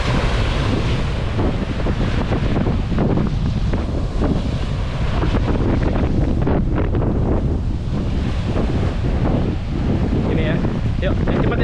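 Ocean waves washing onto Tolanamon beach on Rote, with strong wind buffeting the microphone, a constant loud roar of surf and gusts that swells and recedes throughout, close and unbroken.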